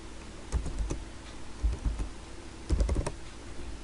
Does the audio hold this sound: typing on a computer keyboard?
yes